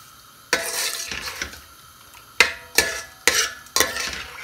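Mutton with garlic, salt and a cup of water is stirred in a pot. A spoon scrapes and sloshes through it in several separate strokes, with a faint sizzle between them, heard close up and alone.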